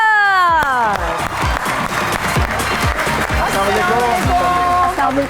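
Studio audience on a talk show clapping to welcome guests Zain Afzal and Humera Biker, steady dense applause running throughout beneath swelling musical tones, no voices.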